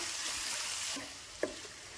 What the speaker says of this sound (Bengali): এখন একটু নাড়াচাড়া সব কিছু খুব ভালোভাবে মিশিয়ে নেব